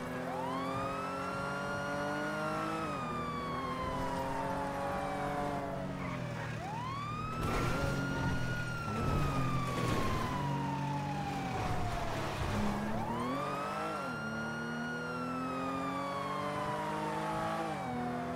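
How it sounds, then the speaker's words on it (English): A police car siren in the NoPixel roleplay video game wails in long rising and falling sweeps over a steady engine drone, loud and continuous, with no voices. "they can hear the sirens."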